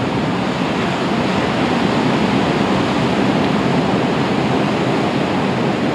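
Big waves break on a shore in a loud, continuous rushing roar of surf that stays unbroken and dense throughout.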